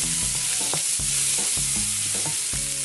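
Onion frying in a pan with a steady, loud sizzle throughout, broken every half second or so by clattering stirs of a utensil against the pan, with no talking, while salt and pepper pork is being cooked.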